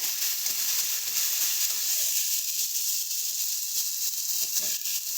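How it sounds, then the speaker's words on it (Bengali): Onions, ginger paste and turmeric masala sizzle steadily in a pan while being sautéed. The hiss is continuous and close, with occasional soft stirring scrapes. "হলুদ গুঁড়ো দিয়ে সমস্তটা পেঁয়াজের সাথে মিশিয়ে মশলাটাকে ভালো মতন কষিয়ে নেব"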